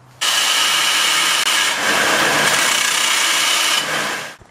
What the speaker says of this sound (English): This is my belt sander.